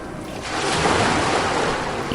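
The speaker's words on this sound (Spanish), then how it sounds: "vas a escuchar cómo las olas vienen y van" Ocean waves washing in and pulling back on a shore: a steady rushing surf that builds slightly and holds, heard close and alone, with no voices.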